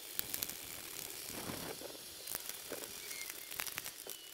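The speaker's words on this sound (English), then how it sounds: "Replace the two T20 Torx that hold the fender light into place." Ratchet driving two T20 Torx screws to secure a fender light on a GMC Sierra 2500/3500, giving close, quiet clicking and scraping with scattered short ticks, no voices.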